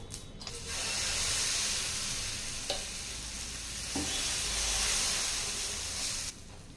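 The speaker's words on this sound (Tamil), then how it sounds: "திருப்பி இன்னொரு அடையும் ஊற்றிக்கலாங்க." Urad dal adai batter frying on a pan: a loud, steady sizzle and hiss that runs throughout, broken by a couple of brief utensil taps, before it drops off quieter at the end.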